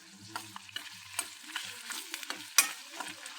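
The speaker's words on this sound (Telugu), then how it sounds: "ఇవి కొంచెం ఫ్రై కావాలి నూనెలో." Ingredients frying in oil in a pan, with sprouts being added to the fry: steady close sizzling broken by scrapes and knocks of a spoon stirring, one sharp metallic clank near the end, no talking.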